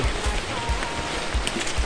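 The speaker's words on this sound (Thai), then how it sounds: "ฝนตกฝนตกฝนตกพี่น้องเอ้ย" Steady rain falls through a forest, a dense continuous patter of drops on leaves and ground with occasional heavier splashes, close and even throughout with no voices.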